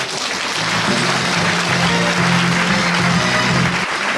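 Audience applause at a year-end evening gathering of a disability association, welcoming a district mayor; steady, loud clapping lasting throughout, with a faint voice or music hum beneath.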